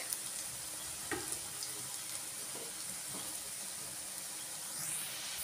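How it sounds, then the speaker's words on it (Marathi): Beetroot, jaggery and peanut tikkis shallow frying in a little oil in a pan, a steady soft hissing sizzle with a few faint scrapes and clicks, no talking. "मला डीप फ्राय नको आहे, शॅलो फ्राय पाहिजे"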